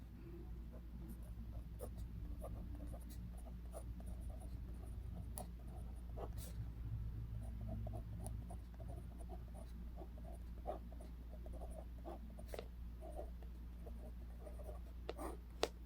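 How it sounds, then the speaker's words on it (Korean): A Monami Maha 0.38 liquid-ink pen writing on fairly thick paper, giving close, continuous soft scratching with short sharp strokes and ticks across the whole stretch, over a low steady hum. "한번 써볼게요."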